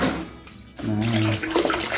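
Liquid fertilizer mixed with white rice washing water sloshes loudly as it is shaken in a container, a continuous close watery churning.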